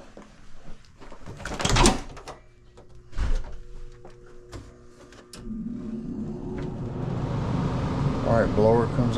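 An HVAC system blower starts up on a unit that has stopped cooling. A few knocks and clunks come first, then a steady rushing airflow hum builds and holds. A voice speaks over it at moments.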